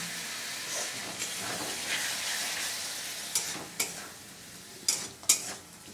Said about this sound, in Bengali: দিয়ে এবার আমি জল দিয়ে ভালো করে মশলাটা কষিয়ে নেব।